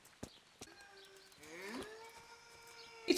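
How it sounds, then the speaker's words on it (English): Eerie, warbling animal calls like a distorted pig in the medieval game Kingdom Come: Deliverance, rising and bending in pitch over a few seconds, with a couple of sharp knocks before and a louder burst at the end. "There's like a haunted pig."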